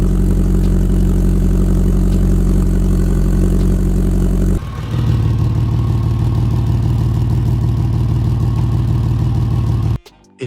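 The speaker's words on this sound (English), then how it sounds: "a loud exhaust rattle or metallic buzz" An idling car engine drones close by, then shifts to a harsher, buzzing exhaust rattle with a steady metallic vibration before cutting off abruptly.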